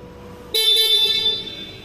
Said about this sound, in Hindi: ये बाइक का हॉर्न है, मैं आपको एक बार बजा के भी दिखा देता हूँ।